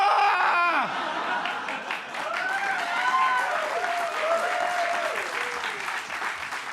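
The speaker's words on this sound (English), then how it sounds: "keep that applause going" Loud applause from a comedy roast audience mixed with laughter and cheering voices. Excited vocal whoops rise above the steady clapping throughout.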